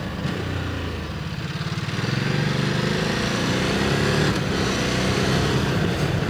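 A V-twin motorcycle engine on a mountain road rumbles with a pulsing, throbbing note that builds as the bike pulls harder, heard close and steady throughout.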